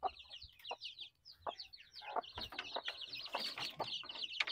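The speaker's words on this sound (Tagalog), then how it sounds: "So yan mga sisiw, oh." Young chicks in a backyard chicken coop peep in a steady stream of thin, high chirps, with a few lower clucks and soft rustling mixed in, all fairly close.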